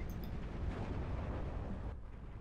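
Rumbling blasts from anti-tank gun hits on bunkers in the Steel Division 2 war game, a dense, continuous low roar of explosions for about two seconds before easing off.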